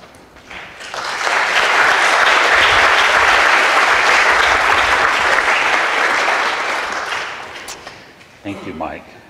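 A crowd at a No War With Iran peace rally in Eugene claps and cheers in a loud, sustained burst lasting several seconds, then fades as a voice begins speaking near the end.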